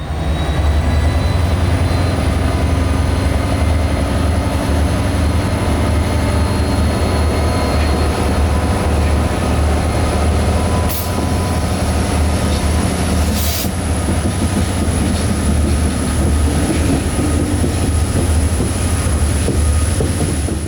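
A freight train hauled by Norfolk Southern SD70 locomotives rolls steadily past at Pennsylvania's Horseshoe Curve in winter, loud and close, with a deep continuous rumble of railcars, wheel squeal and a couple of brief sharper screeches, no talking.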